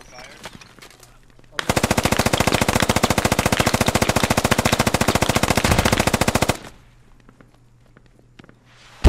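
Sustained automatic machine gun fire in the military shooter Squad, a loud rapid burst of evenly spaced shots lasting about five seconds, with quiet ambient battlefield noise before and after.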